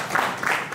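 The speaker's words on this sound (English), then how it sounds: "Can we clap for you, see you?" An audience at a university workshop in Uganda claps together in a short, dense burst of close applause.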